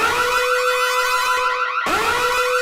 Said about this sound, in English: Miles, we can ring the alarm.